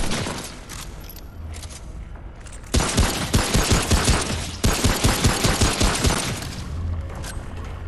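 Gunfire in the video game Remnant: From the Ashes: after a quieter opening, loud rapid bursts of shots rattle off in quick rhythmic volleys with a brief break in the middle, then fade to a lighter background, with no talk.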